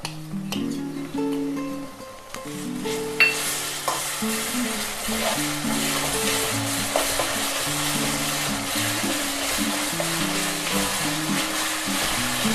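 Ginger and garlic sautéing in oil with onion, curry leaves and coriander, a constant close sizzle with stirring clatter from a utensil against the pan.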